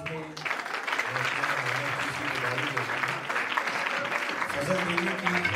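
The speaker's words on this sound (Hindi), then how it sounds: "आपकी तालियों की गूंज में" Audience at a church Christmas celebration applauding steadily and loudly, a dense patter of clapping lasting throughout, with faint background tones beneath.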